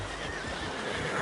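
A horse whinnies in the Red Dead Redemption 2 video game, a short, loud neigh over a continuous bed of game ambience, with faint hoofbeats in the background.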